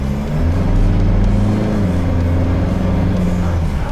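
A Mitsubishi MR Triton ute pulling away hard off the line, its engine loud and close with a deep, steady roar that climbs slightly in pitch.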